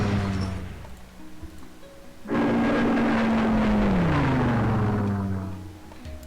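An 87B dive bomber attack in Civilization III starts with a droning aircraft engine, then a sudden loud surge of roaring noise with a falling whine, holding strong for several seconds before easing off.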